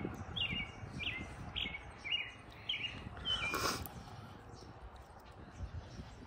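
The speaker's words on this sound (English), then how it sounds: "Those dang birds." Small birds chirp outdoors in a quick series of short, high calls over a steady background, with one brief louder burst partway through and no talking.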